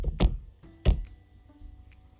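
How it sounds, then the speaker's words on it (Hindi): Computer keyboard keys struck while a password is entered at a Cyberoam firewall login, a few separate clacks and taps with short pauses, close and fairly quiet over a low room hum. "and password I am typing"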